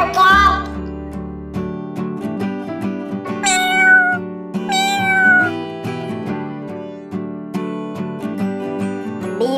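A cat meows loudly several times in a row, the high-pitched calls rising and falling over a steady sustained musical backdrop.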